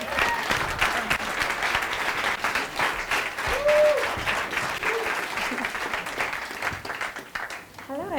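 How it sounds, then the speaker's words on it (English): A conference audience at MOEVEMENT 2016 claps steadily for about eight seconds, a dense, full round of applause with voices rising over it. "So give Eleanor a round of applause."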